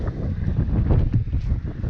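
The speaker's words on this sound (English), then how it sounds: "It is windy up here." Strong wind buffets the microphone on an exposed uphill stretch of a mountain hiking trail, producing a continuous, close, roaring rumble with gusty swells and no voices.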